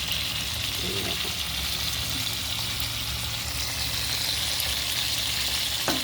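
Continuous loud sizzling hiss of crab curry frying in a small pan, steady and close throughout, with a faint voice in the background.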